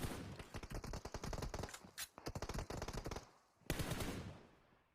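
Rapid bursts of automatic gunfire from a PUBG Mobile competitive scrim match, loud, dense rattling volleys with brief gaps, then another heavy burst near the end.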